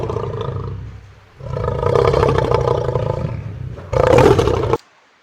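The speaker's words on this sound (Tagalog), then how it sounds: "Ito naman ay nagmumula sa tunog ng isang hayop na lion o leon." Lion roaring loud and close, two long throaty bursts with a brief gap between them and then a sudden stop, with no voices.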